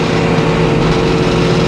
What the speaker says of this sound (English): And we're cutting white pine into one by.